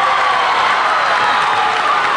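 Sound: crowd cheering and applauding at a women's volleyball match

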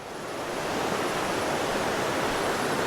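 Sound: flowing forest stream

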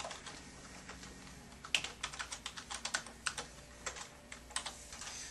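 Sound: typing a password on a computer keyboard

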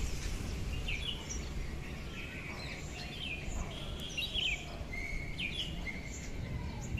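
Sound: birds chirping outdoors after rain

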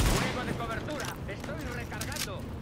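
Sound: gunfire from the video game The Division

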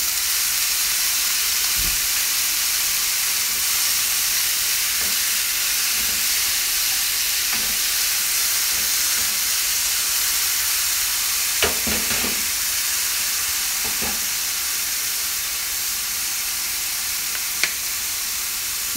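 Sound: potatoes frying and sizzling in a pan

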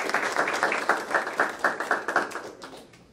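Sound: audience applause

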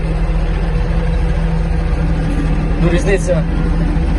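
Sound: Yanmar EG-230 Japanese mini tractor engine running

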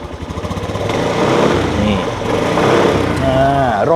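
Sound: Suzuki Skydrive 125 scooter engine running after starting

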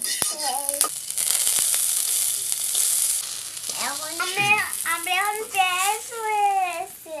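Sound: onions frying in a pan

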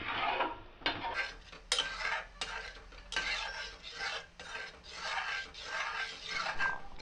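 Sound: stirring carrot halwa in pan over medium heat

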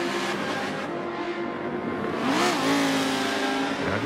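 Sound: race car engine in video game Forza 7

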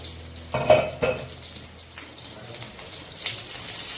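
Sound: stuffed green chillies frying in a pan

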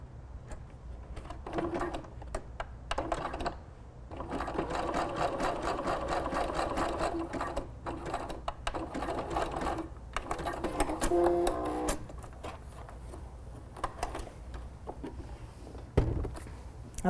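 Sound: sewing machine backstitching a bath towel cap

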